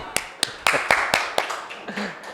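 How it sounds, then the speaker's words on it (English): Scattered audience clapping at a startup training session, a handful of sharp claps in an irregular rhythm, close and moderately loud, fading toward the end with no one talking. "Let's clap for him."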